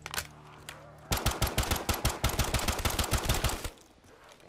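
Rapid, loud bursts of M19 pistol gunfire in Black Ops 3 Zombies on a custom Terminal remake map, a continuous string of sharp shots fired in quick succession for about two and a half seconds before dropping to quiet game ambience.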